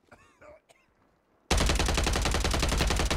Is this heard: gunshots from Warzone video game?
yes